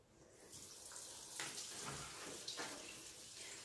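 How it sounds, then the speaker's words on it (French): Tap water runs steadily while a cutting board is rinsed in a kitchen during apple cake preparation, a soft continuous splash with a few brief louder gushes. "il faudrait que tu me rinces un petit peu la plaque"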